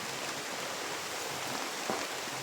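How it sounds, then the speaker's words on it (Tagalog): Rain falls steadily during a class, a constant soft hiss of drops that holds at an even level throughout with no voices over it. "ulan na, umuulan na talaga tong klase to, talagang umuulan ba"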